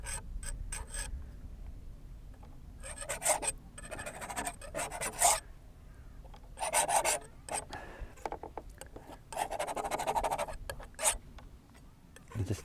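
A palette knife scrapes oil paint across canvas outdoors, with short rasping strokes coming in separated bursts between quiet pauses, close and fairly faint.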